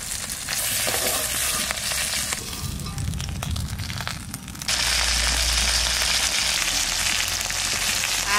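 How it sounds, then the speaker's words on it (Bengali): Fish sizzles and crackles in hot oil in a kadai during outdoor village cooking, with a loud, steady frying hiss and a brief dip before the sizzle swells again, no voices. "মাছটা ভাজা হয়ে গেছে, তুলে নিই, লাল লাল করে ভেজে নিলাম"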